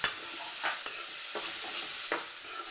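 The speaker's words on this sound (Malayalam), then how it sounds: "ഒന്ന് ചെറുങ്ങനെ ഒന്ന് വഴറ്റി ഇതൊന്ന് വാടാൻ" Chopped onion sautéing in a frying pan for a Kerala-style egg fry, with a steady sizzle and several short scraping stirs of a spatula, close and alone without talk.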